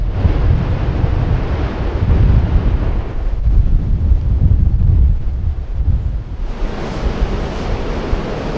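Ocean waves at a Hawaiian beach along a jungle trail, a loud continuous roar of surf with rumbling low end and wind buffeting the microphone throughout, no voices.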